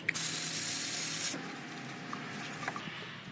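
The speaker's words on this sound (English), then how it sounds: "Tecpo, brake cleaner, best products." Tecpo brake cleaner sprays from an aerosol can during Maserati maintenance in one steady, loud hiss lasting over a second, followed by faint taps and handling sounds.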